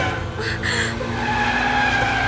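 A car swinging around in a hurried turn during a chase scene, its tires squealing in a loud, sustained skid over engine noise, close and continuous.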